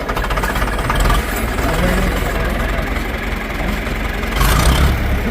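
A John Deere 3010 wide-front diesel tractor runs at a farm auction with a loud, close, steady rumble that swells near the end, with voices speaking over it.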